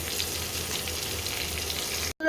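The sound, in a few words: frying prawns in oil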